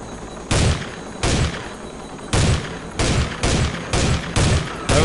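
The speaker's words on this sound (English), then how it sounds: "Don't even need to aim down the sights, just fire from the hip" Hip-fired gunfire in Soldier of Fortune II, seven loud, close shots at uneven intervals, each with a short decaying tail, heard alone.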